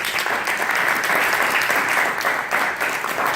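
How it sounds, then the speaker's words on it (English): An audience applauds at a Phi Delta Kappa Founders' Day program, a dense steady wash of clapping hands filling the room throughout, loud and close with no talking. "please join me in let's giving them a round of applause"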